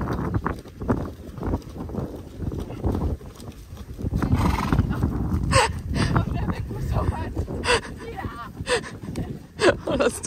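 Horses on a countryside trail ride move at speed with rhythmic hoofbeats, a neigh or whinny breaking through, close to the rider, while people talk over the sound.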